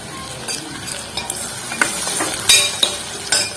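Sagu curry being stirred in a hot pan just after pepper powder goes in: a spoon scrapes and clacks in irregular strokes over a steady oil sizzle, close and fairly loud, with no talking.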